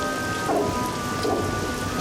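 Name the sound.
thunderstorm with rain and thunder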